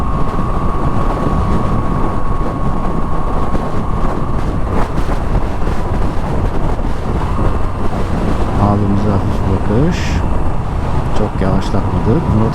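A Moto Guzzi V7 Stone motorcycle on a test ride, its engine a steady drone nearly buried under loud, continuous wind buffeting for the whole stretch.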